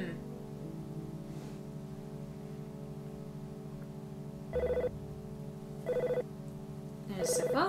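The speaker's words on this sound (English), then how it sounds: "There's a phone call coming in." An old-style telephone rings in the SNES role-playing game EarthBound, sounding as a few short, evenly spaced bursts of ringing over a steady backdrop of game music.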